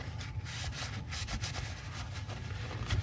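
A paper towel is rubbed back and forth inside the channel of an AR15 rifle during cleaning, producing soft, close, repeated scrubbing strokes in an uneven rhythm with no talking.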